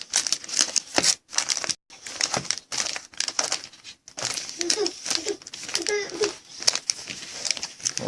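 A small stack of 2014 Panini Prizm Jumbo football trading cards being shuffled by hand, giving crisp, uneven crinkling and flicking bursts with brief pauses, while people talk softly nearby.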